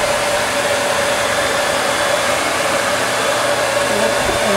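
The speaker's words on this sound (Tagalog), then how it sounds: "Kung saan, pinatutuyo na lang po ni Mucha yung buhok" Hair dryer blowing steadily on a salon client's hair after a rebonding treatment, a loud continuous whooshing hiss with a faint whine, close and unbroken.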